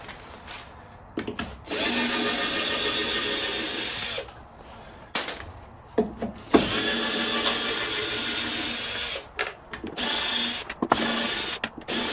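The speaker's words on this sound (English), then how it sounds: "All I need, my trusty drill" A power drill whirs in repeated bursts, spinning up loudly for a few seconds at a time, with brief pauses and clicks between runs.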